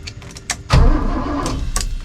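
A 1976 Toyota FJ55 Land Cruiser engine cranks over after a short pause, with a loud sustained churning starter-and-engine rumble that runs steadily to the end.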